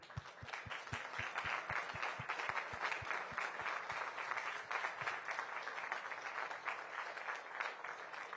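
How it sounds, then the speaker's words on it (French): An audience applauds the Epsilon space mission patch at the Paris Air Show, a steady wash of clapping from a crowd that holds at an even level throughout with no talk over it. "on vient d'applaudir le patch de la mission Epsilon"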